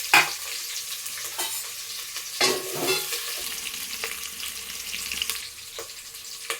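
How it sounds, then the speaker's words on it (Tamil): Sliced onions and two green chillies frying in a pan, a steady crackling sizzle broken by several scraping stirs, close and with no talking. "வெங்காயத்தையும் பச்சை மிளகாயும் போட்டு வதக்கிடலாம்."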